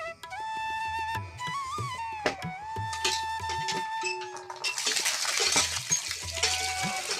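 Seeds are washed by hand in water with sloshing, splashing and trickling. Short clinks and knocks come close by, and a louder gush of running water follows in the second half.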